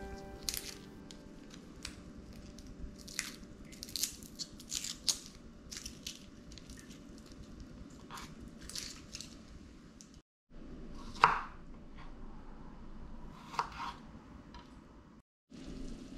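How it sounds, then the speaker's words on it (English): Garlic cloves are smashed and cut with a knife, giving a run of sharp, close crunches and chops at an uneven rhythm, with no talk. "I will peel them up and smash them with a knife"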